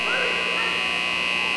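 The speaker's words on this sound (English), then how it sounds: "it sounds like somebody fell asleep on the buzzer" A long, steady electronic buzzer from a basketball scoreboard at a middle school boys game, loud and unbroken for the whole stretch over faint background noise.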